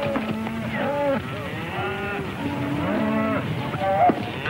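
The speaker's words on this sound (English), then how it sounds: "It's a fine-looking herd of cattle." A herd of cattle lows repeatedly in a 1937 western film, several long moos overlapping from nearby and farther off, over a steady background rumble.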